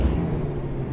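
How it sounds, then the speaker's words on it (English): Brief hiss of truck air brakes in the driving game American Truck Simulator, a loud whoosh of released air over a low engine rumble, lasting about a second. "Oh, those brakes must be smoking right now."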